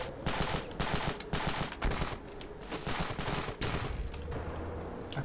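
Gunfire in the video game Ravenfield, sharp repeated shots and short automatic bursts at an uneven rhythm, fairly close, mostly on their own without talk.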